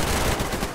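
Burst of rapid gunfire in a video game, dense overlapping shots forming a loud, continuous rattle that fades slightly toward the end.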